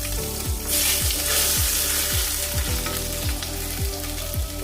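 Crushed ginger and garlic sizzle steadily in hot oil for a berakaya curry tempering, a loud continuous frying hiss with repeated stirring scrapes, no talk.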